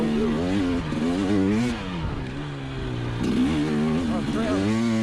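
An enduro motorcycle on a trail revs hard, with the engine note rising and falling through gears. The sound is close and loud, and a rider's voice talks over it intermittently.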